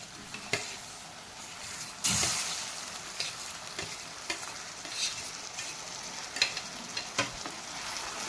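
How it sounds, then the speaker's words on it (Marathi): Mashed eggplant and tomato go into a hot pan and are stirred, giving a soft sizzle underneath with repeated sharp spoon scrapes and taps against the pan, one louder splash of contact early on. "यामध्ये मी वांग आणि टोमॅटो टाकून घेत आहे."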